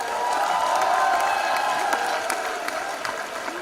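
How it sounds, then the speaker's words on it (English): Students at a university event applaud and cheer after a round of competition submissions, a dense, sustained burst of clapping from a large crowd with faint whoops and crowd noise mixed in. "all of you all deserve a round of applause"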